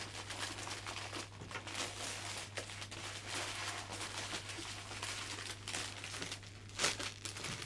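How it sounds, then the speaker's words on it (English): Cellophane crinkles and rustles steadily around a hand-tied flower bouquet as it is wrapped, soft continuous crackling close by with a sharper crackle near the end over a low steady hum. "I'm just going to catch off with a little bit of cellophane."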